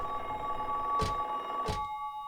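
A telephone in the horror game Silent Hill 3 gives two short, loud rings over a low droning hum, and the hum thins out afterward.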